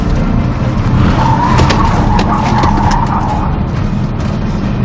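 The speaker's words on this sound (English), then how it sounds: "watch how the car does that swerve so much differently with just 10 kilometers an hour difference in speed" A car swerving at 60 km/h during a driving test, tires squealing loudly and continuously over steady engine and road noise, with a brief squeal peak in the middle.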